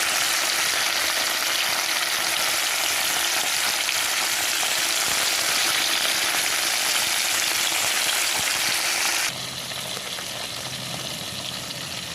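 Steady, loud sizzling of fish frying in hot oil fills the whole stretch, dropping slightly in intensity near the end.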